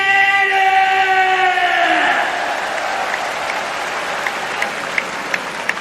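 Crowd applause and reaction inside Saitama Super Arena at a Pride mixed martial arts event, starting loud and mixed with a tonal announcement or voices, then settling into steadier distant clapping with sharp isolated pops.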